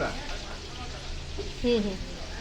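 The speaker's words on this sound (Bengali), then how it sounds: "আর এদিকে আমি চিকেন গন্ধরাজ ফ্রাই" Chicken gandharaj sizzles steadily in a pan, a close, even frying hiss with a faint voice briefly audible over it.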